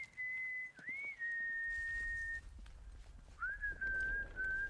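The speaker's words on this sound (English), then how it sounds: "Oh, there's the whistles." Whistles in the Atomfall video game, two long sustained whistled tones with small pitch bends and a short pause between them, clear and fairly quiet over a low background rumble.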